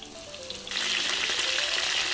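Cabbage fries in hot oil in a pan for a Thai vegetarian dish, a steady bright sizzle that jumps louder partway through and then holds close and even, with no voices.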